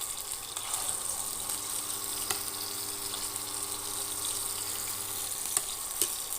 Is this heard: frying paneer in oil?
yes